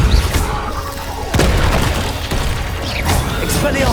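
Spell blasts from the video game Hogwarts Legacy: several heavy booming impacts land in quick succession over a constant dense rumble of magical effects, with sharp whooshing bursts in between.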